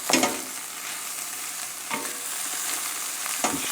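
Large shrimp sizzle steadily as they fry in a pan, with a few louder clatters of stirring at the start, middle and end. No voices.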